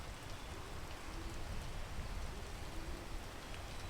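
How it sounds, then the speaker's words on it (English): Steady rain falls outdoors on the way to a mountain peak, a dense even patter of drops on surfaces, soft and continuous with no voices. "Now I have to wait for it to stop raining."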